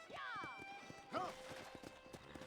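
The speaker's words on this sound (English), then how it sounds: "there's a pack of wild horses nearby" Wild horses in the Western video game Red Dead Redemption whinny twice with high, shaky neighs over soft, irregular hoof clip-clops, while a character's voice talks underneath.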